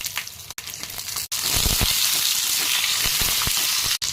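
Peanuts, garlic, chilies and tomato frying in hot oil for chutney give a loud, dense sizzle that jumps up after a brief dip and carries on steadily, with a short break near the end.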